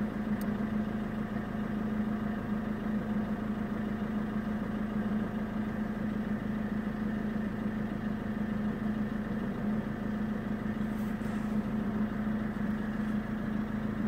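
A 2006 Mercedes C200 CDI diesel, W203 generation, with a loss-of-power fault idles steadily, giving a constant even rumble with a low hum that stays unchanged and close throughout, with no talking.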